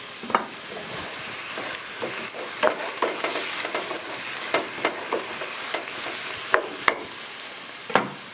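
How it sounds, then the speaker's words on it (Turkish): A spoon stirs vegetable soup with potatoes in a pot, with scraping clinks and occasional sharp taps against the side over a steady sizzle. "Tekrar karıştırdım."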